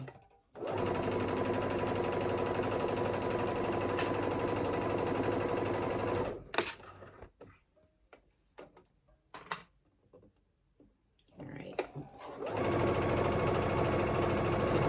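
A sewing machine stitches the edges of a tank top, running loudly and steadily for about six seconds, pausing for scattered clicks and handling noises, then starting up again for a final steady run.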